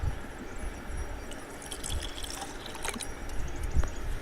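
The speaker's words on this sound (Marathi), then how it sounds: "यामध्ये आपण थोडं पाणी टाकत आहोत" Water is poured into a bottle with a faint, gurgling trickle and small splashes, quiet and close.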